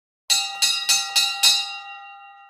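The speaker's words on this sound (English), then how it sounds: "Then he began ringing the bell." Five quick bright electric bell rings in a steady series, the last tone ringing on and fading away afterward; no other sounds.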